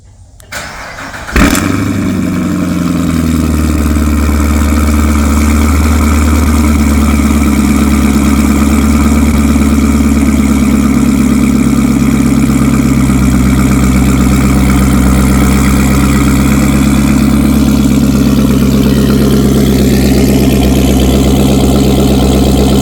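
A Chevrolet Corvette C7 Z06 cold-starts with a sharp crank and a loud bark, then settles into a steady, deep, rumbling idle that carries on close and loud with no talking.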